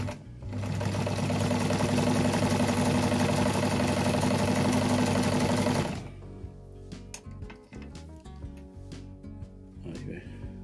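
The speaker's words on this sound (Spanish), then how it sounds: "usted ve que esta máquina hace nada de ruido" Antique Necchi sewing machine under restoration running at speed, a steady, even whirring hum with fast mechanical ticking for about six seconds, then stopping; afterward someone speaks over scattered small clicks and handling sounds.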